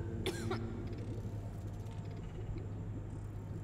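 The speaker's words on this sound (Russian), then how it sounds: "That cough doesn't sound good." A person gives a single short cough near the start, followed by quiet throat noises over a constant low hum.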